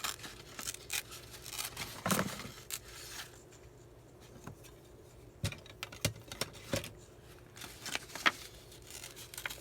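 Several short crisp snips of scissors through paper, irregular and close, with quiet handling noises between cuts and no talking.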